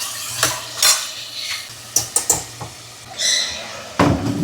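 Onion, tomato and turmeric stirred together in a pan for a one-pot dinner, a series of close metal scrapes and clinks of a spoon against the pan over a low sizzle, with no talking.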